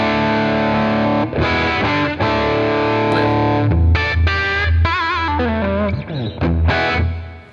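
An overdriven electric guitar through a Fractal Audio Axe-Fx II amp modeler plays sustained chords and bent notes with a heavily distorted, effects-laden tone, loud and close, and no one talks.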